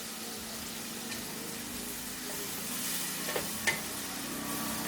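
Mutton with spices frying in a pan for kosha, a soft steady sizzle with occasional stirring scrapes and a couple of brief clinks, close and fairly quiet, no talking.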